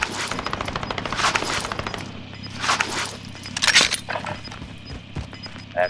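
Automatic gunfire from a shooter video game rattles in rapid, repeated bursts, loud and close, with short gaps between volleys and a few sharp single shots near the end.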